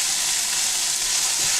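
Cooked corn sizzles steadily in a hot frying pan while it is briefly warmed, a continuous bright hiss at even volume with no talking over it.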